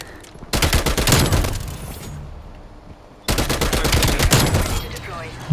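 Loud, dense bursts of rapid gunfire in Call of Duty: Black Ops Cold War, two long volleys separated by a brief lull, close and overwhelming.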